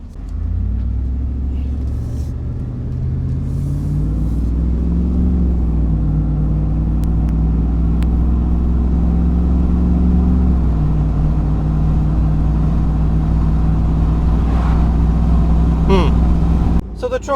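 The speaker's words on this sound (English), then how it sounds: "So the truck runs fine," A 2004 Dodge Ram pickup truck engine rumbles steadily while driving, its low drone rising as it speeds up, then holding and shifting to a lower tone.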